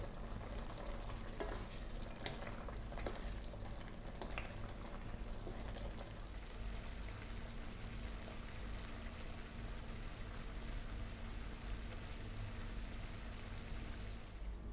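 Canned sardines and misua noodles sautéing in a pan give a steady close sizzle and bubbling simmer, with scraping stirs in the first few seconds before the sound settles into continuous frying without talk.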